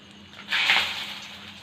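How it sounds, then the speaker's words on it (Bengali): Whole spices (green cardamom, two cinnamon sticks, four cloves) dropped into hot oil in a kadai, giving a soft hiss that swells suddenly and then settles into a steady sizzle, close and alone. "ছোট এলাচ, সবুজ এলাচ, 2টা দারচিনি, 4টা লবঙ্গ তেলে দিয়ে দিচ্ছি"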